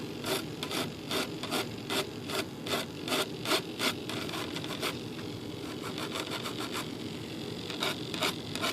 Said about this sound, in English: Let's do a little sanding.